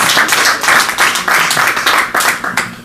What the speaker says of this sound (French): Applaudissons l'artiste.